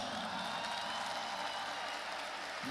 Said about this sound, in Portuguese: Parabéns, aplaudam-se.